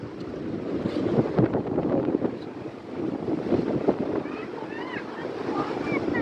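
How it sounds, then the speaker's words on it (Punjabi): Strong wind gusts buffet the microphone at a high point above Pulga Dam, a loud rushing roar that rises and falls, with a voice talking faintly underneath. "ਬਹੁਤ ਤੇਜ਼ ਹਵਾ ਨਾ ਆਹੋ ਹਵਾ ਪਾਣੀ ਨਾਲ ਹਵਾ ਵੱਜਦੀ ਹੈ"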